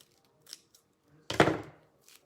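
Scissors snip through craft material for an elf boots tree topper: one firm, close cut in a quiet room, with a few faint small clicks before and after.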